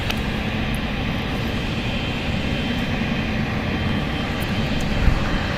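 Airliner taking off from runway 28 left at San Francisco International Airport: a steady, broad jet engine roar, loud and continuous, with no voices.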